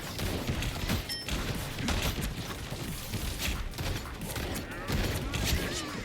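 Blade's gun in the Marvel Rivals video game firing in a dense, continuous barrage of shots and impacts, with a speaking voice over the top throughout.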